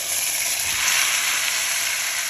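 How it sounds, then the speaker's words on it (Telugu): Tomatoes frying in a pan for paneer and capsicum masala, a steady, even sizzle close up with no talking. "ఇప్పుడు టమాటాలు వేసుకుందాం"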